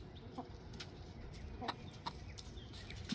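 Backyard homestead chickens cluck in short, scattered bursts over a low outdoor hum, several sharp calls spaced irregularly and heard fairly close, with no talking.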